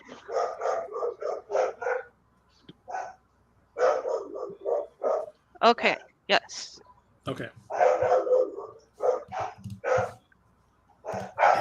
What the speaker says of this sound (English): That dog is pissed.